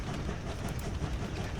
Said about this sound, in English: Gotta wait for this one train to get out of the way, though.